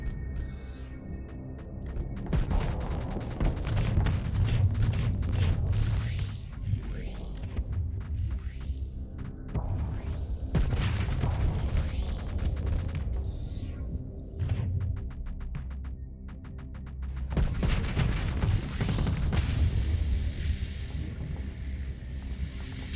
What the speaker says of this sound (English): put the Pila on auto fire